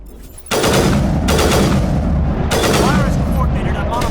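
Heavy weapons fire in a Mass Effect 1 battle against Geth forces, loud and continuous, with repeated booming bursts and sharp cracks layered over a dense roar.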